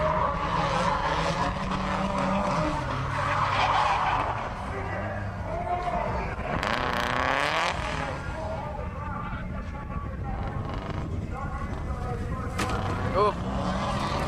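Drift cars sliding sideways through the corners at Calder Park, a dense, continuous roar of engines with squealing tyres and sweeping pitch changes, heard under steady commentary talk.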